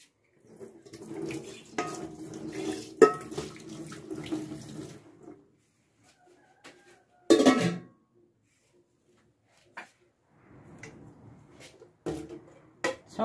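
Dishes and pots washed in a sink under a running tap, with splashing water and clinking cookware. Water runs in bursts with pauses in between, fairly close and moderately quiet.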